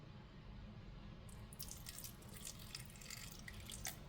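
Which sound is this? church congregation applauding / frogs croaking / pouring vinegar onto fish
pouring vinegar onto fish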